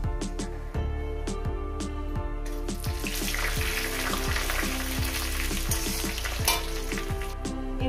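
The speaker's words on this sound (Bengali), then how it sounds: "আর দিয়ে দেবো জিরে। দিয়ে দিলাম। একটু কয়েক সেকেন্ড একটু ভেজে নেব।" Cumin seeds sizzle and crackle steadily in hot oil, a close, continuous frying hiss with scattered popping and stirring knocks throughout.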